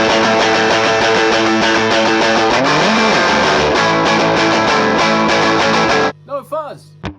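Electric guitar played through two amplifiers with delay and reverb but no fuzz rings out loud and harmonically rich for about six seconds, then cuts to sparse, echoing tail notes.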